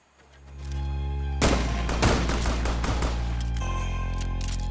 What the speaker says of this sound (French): Donc là ils sont clairement en train de tenter des balles de snipe